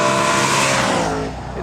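Audi RS5 Cabriolet V8 engine revving with a loud, barking rasp, close by and continuous, easing off slightly at the end.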